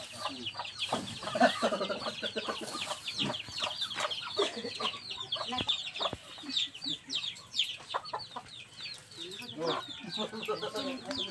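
A flock of chickens clucks and squawks continuously nearby, with scattered peeps and rustling, while people talk in the background.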